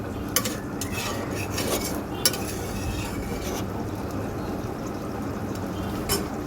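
Lentil fritter curry in a pan is stirred and fried, a steady low bubbling sizzle with a few sharp utensil clicks against the pan, close and continuous with no talking.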